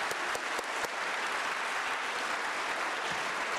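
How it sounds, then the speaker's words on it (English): Dense, sustained applause from a conference audience for a panel of experts, loud and continuous throughout, with a few sharper claps standing out near the start. "Let's first give a very warm applause to our experts in this group again."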